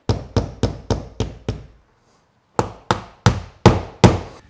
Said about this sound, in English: Pound all the anchors in.